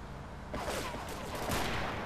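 Gunfire crackles in the video game GTA III, a dense, loud burst of rapid shots that carries on steadily after a brief quieter start.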